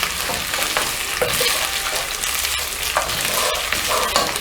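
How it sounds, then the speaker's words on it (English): Boiled, salted beef fries in a pan, giving a loud, steady hiss and crackle with occasional stirring scrapes and no voices. "So I'm going to fry this one for 2 minutes."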